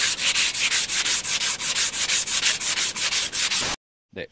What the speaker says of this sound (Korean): 이렇게 사포로 한 번씩 밀어주는 걸 추천드립니다